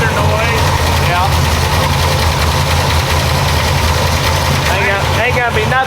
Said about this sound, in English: Got a little lifter noise.